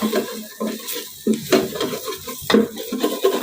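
Ingredients stirred in a hot wok over low heat while making Thai five-spice braised pork leg, with a steady scraping stir, a light sizzle and occasional clinks of the utensil against the pan, close up.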